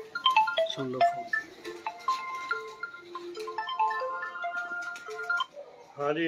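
A mobile phone ringtone plays a bright, repeating melodic tune at moderate loudness, with some background talk around it.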